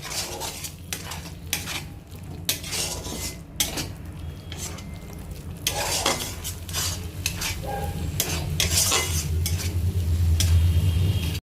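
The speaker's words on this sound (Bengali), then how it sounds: "এবার ভালো করে মশলাটা কষিয়ে নেবে।" Spices with chili powder and turmeric frying in a pan for vegetable khichdi, a steady sizzle under repeated scraping and clinking of a metal spoon stirring against the pan, close and fairly loud.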